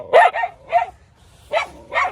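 A female dog barks in short, sharp bursts, four or five close, loud barks with brief gaps, heard alone with no talking.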